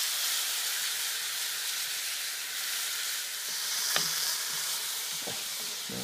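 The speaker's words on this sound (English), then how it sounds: "Right, we're going to add the tomato in there." Meat, onions and tomato for chili con carne sizzling in a cast-iron potjie pot, a loud continuous hiss and crackle with a couple of brief clanks from stirring toward the end, no talking.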